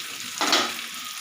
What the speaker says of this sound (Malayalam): നമ്മുടെ മീൻ വറുത്തത് അങ്ങനെ ഉണ്ടെന്ന് നോക്കാം